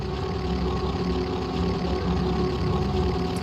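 Racing car engines rev on the grid before a GT World Challenge race at the German Grand Prix round, a dense, sustained mechanical drone that holds steady and loud throughout with no talking.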